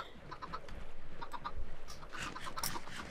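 Minecraft chickens cluck softly in a short, faint cluster of bird calls over a low background hum.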